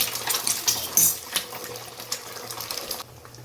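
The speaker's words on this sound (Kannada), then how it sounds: "ಒಂದು 4 ಸ್ಪೂನ್ ಎಣ್ಣೆ ಹಾಕ್ಕೊಂಡು ಮೊಟ್ಟೆನ ಹೊಡೆದಾಕ್ಕೊತಾ ಇದ್ದೀನಿ" Eggs cracked into about four spoons of hot oil in a pan, giving a dense, loud sizzle with crackling bursts that fades and stops abruptly near the end.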